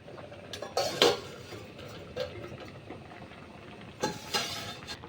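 A pot lid is lifted off in a home kitchen after the pot sat covered with a plate while potatoes boiled, giving a few clattering metal knocks and scrapes near the mic, with brief clinks around the start and again toward the end.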